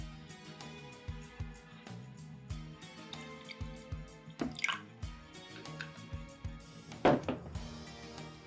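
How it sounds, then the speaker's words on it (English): Water is poured into a glass for watch product photography, making a close, quiet trickle with intermittent drips and small splashes, with a couple of brighter splash bursts and no talking. "the next step is going to be adding the water"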